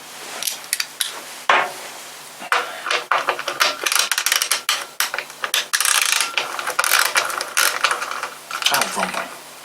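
Socket ratchet clicking in quick bursts while tightening the tensioner on a 1967/68 Suffolk Super Punch lawnmower, with a few metallic knocks between the runs of clicks. The sound is close and fairly loud, with no talk.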